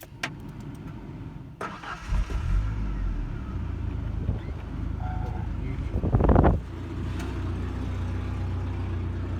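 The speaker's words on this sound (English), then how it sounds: "I'll crank it up. So here's gonna be the start up." A 1994 Ford Ranger pickup cranking and firing up, a brief starter whir then the engine catching and settling into a steady idle, heard close with no talk.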